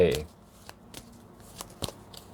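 Tarot cards are handled and drawn, with a brief voice at the start, then soft, scattered card flicks and slaps, close and quiet.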